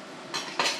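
A utensil scrapes and clatters against a pan while zucchini are stirred, two short bright bursts of scraping close by with no talk.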